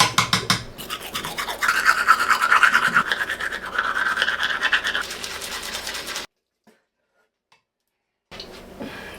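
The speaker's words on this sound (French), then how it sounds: "laver les dents" A toothbrush scrubbing teeth in a quiet home bathroom, a steady rapid scratchy brushing that runs close and fairly loud for about six seconds, then falls silent before a softer noise returns.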